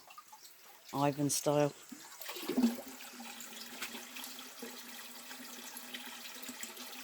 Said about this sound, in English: Let's top the water up.